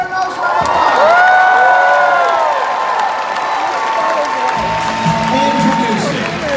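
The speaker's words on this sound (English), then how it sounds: "Give her a applause." Large convention audience at MGM's Grand Garden Arena applauds and cheers for a panel host, sustained clapping with whoops and shouts, loud and dense, with a voice speaking over the crowd.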